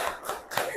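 Students in a junior high social studies class do a short rhythmic clapping chant, with a couple of crisp, close clap bursts in quick succession.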